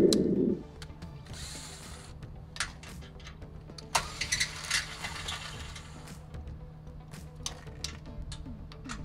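A power tool zips in short, separate bursts, removing bolts from an RV electric tongue jack on a Coleman 17B trailer, heard close among clanks and handling noises.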